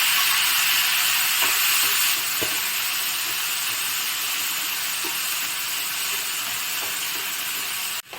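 Watermelon rind is frying with onion in a pan, giving a steady, loud, close sizzle with faint clinks throughout and a brief knock at the end.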